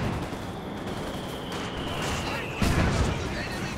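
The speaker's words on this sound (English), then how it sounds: "There goes the mortar." A mortar fires in a Company of Heroes 2 battle: one loud low thump lands late, over a steady wash of distant gunfire and battle noise.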